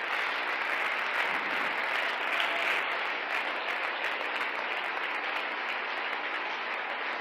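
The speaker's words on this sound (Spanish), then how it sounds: "Dele aplausos al Señor en esta mañana" Sustained applause from a large church congregation, steady and loud throughout, dense clapping with no pauses.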